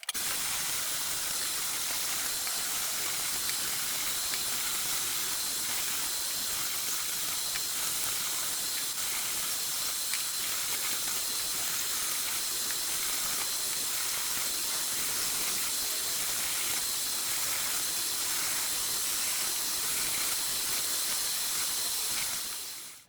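Steady running tap water rinsing fresh pepperoncini peppers in a kitchen, a continuous hissing splash at even loudness throughout with no pauses or talk.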